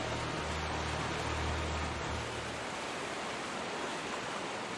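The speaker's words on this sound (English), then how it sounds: "You're literally walking through a waterfall" Steady roaring rush of a waterfall in the Pokémon Scarlet video game, a dense broadband wash of falling water that holds constant throughout with a faint low hum early on.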